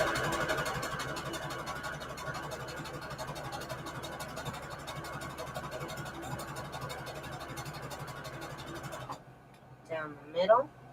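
A sewing machine stitches lace trim onto holiday scrap fabric with a steady motor whir and fast needle ticking for several seconds, then stops, followed by brief faint voice sounds.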